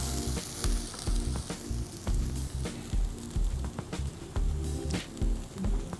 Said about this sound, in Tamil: இது கூடவே கறி லீவ்ஸ் போட்டுப்போம், கருவேப்பிலையும் சேர்ந்து இதோட வதங்கணும்